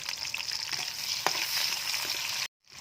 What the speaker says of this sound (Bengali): তেল গরম হতে পেঁয়াজ কুচিটা দিয়ে দিলাম।